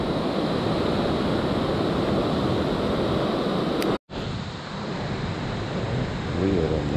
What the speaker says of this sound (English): let you hear the natural sound of the water flow.